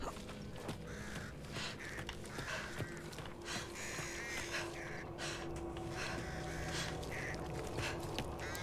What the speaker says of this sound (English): Oh crap, the birds. I'm scared of the birds.